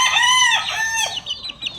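A chicken calls loudly and close by with drawn-out squawks, then a few shorter, broken clucks.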